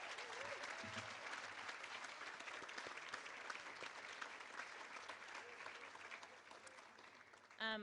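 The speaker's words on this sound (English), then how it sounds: "So let's give all of our major donors, please, a round of applause." Steady applause from diners at a formal centennial dinner for a 4-H camp, many hands clapping continuously and fairly faintly, with brief voices underneath and a short louder sound right at the end.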